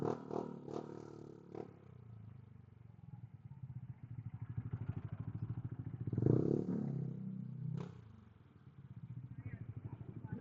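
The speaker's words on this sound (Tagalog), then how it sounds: "Pink na pink ang kanyang motor. NMAX version 2." A pink Yamaha NMAX version 2 scooter rides past on a wet road, its engine putting out a pulsing drone that swells to a peak in the middle and then fades, with clatter and a voice over it.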